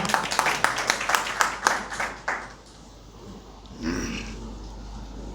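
An audience at a Samvidhan Bachao rally of advocates in a Hindi-speaking hall breaks into applause for an association member called to the stage: a dense, nearby burst of clapping that fades out after a couple of seconds, then quiet room tone.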